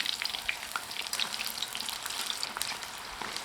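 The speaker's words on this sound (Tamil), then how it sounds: "இப்போ நல்லா வெந்து வறுத்துங்க போட்ட உடனே திருப்பி போடக்கூடாதுங்க" Ragi onion pakoda frying in hot oil, a steady crisp sizzle with fine crackling pops throughout, close and moderately loud with no voices.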